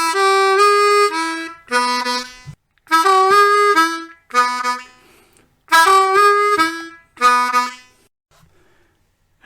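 Solo blues harmonica plays the opening riff of a blues tune, built on 2 draw to 3 draw semitone bends, in six short bursts of bent, reedy notes with brief gaps, close and clear with no talking.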